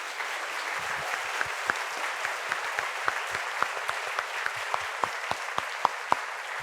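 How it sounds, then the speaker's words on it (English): An audience at a conference on schooling and mass incarceration applauds panel speakers, steady close clapping throughout with individual sharp claps standing out, no speech over it. "Please give a round of applause to these two brilliant women."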